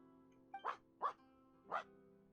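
Three short, distinct dog barks from Genshin Impact, spaced about half a second apart, sounding at moderate distance over a steady low ambient hum.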